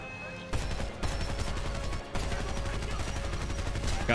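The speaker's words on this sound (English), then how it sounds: "Heavy fire on my position." Heavy, sustained automatic gunfire from the video game Homefront, loud and continuous with sharp bursts at the start and again midway, overlapping in a dense battle din with occasional voices underneath.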